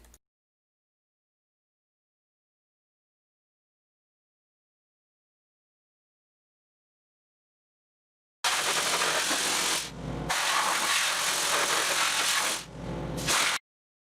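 Sandblasting paint and rust off a VW bus gives a loud, steady broadband hiss in two long blasts with a brief pause between, following a long stretch of silence.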